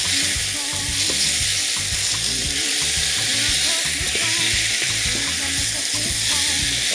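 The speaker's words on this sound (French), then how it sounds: "On va mélanger tout ça avant de pouvoir ajouter les tomates" Spices with turmeric, being mixed in a hot pot for an oxtail curry, give a loud continuous sizzle and frying hiss with steady stirring scrapes throughout, with no voices.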